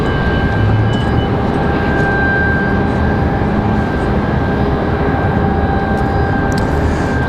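Southwest flight 1467 arriving from Baltimore at Raleigh-Durham International, a loud, steady jet roar with a faint tonal whine running through it, continuous and unbroken, no voices.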